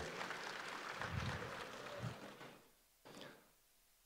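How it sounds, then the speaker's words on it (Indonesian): Broad, steady crowd applause, loud and sustained, then fading out toward the end with a brief burst of noise. "Berikan tepuk tangan yang meriah."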